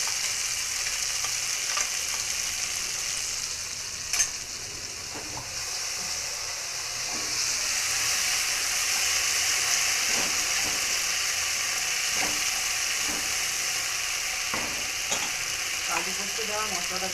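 Cashew and poppy seed masala with ginger sizzles steadily in a pan for butter paneer, a continuous close frying hiss with occasional stirring scrapes and clicks.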